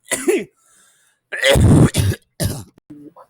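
Several harsh, throaty coughs in quick bursts, close and loud, separated by short silences.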